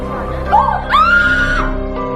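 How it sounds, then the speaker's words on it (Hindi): A woman's rising, wavering scream cuts through ongoing background noise, a short cry followed by a longer sustained wail. "अब चीखी क्यों?"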